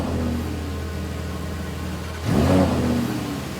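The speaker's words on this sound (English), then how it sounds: "the V10 of the Huracan is allowed to roar for the first time" A Lamborghini Huracan EVO V10 fires up for the first time at the factory, with a sudden short roaring rev rising over a steady low hum from an exhaust extraction hose and cooling blower.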